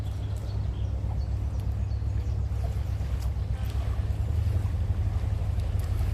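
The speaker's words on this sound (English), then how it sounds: "Oh, that's a boat." A boat moving on a river, its low engine drone rumbling steadily beneath wind buffeting the microphone, a faint wash of water, no speech.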